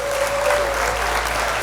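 Brief audience applause, a dense continuous patter of clapping lasting under two seconds, fairly loud and unbroken, with a faint tone in the background.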